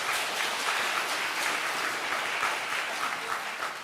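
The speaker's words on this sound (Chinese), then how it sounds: "我们拍手欢迎他们啦哈" A church congregation claps to welcome first-time visitors, a steady, full wash of many hands that stays fairly loud throughout with no talk over it.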